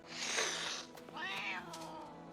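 A cat in the film The Prestige gives two drawn-out meows in quick succession, close and clear, with no talking.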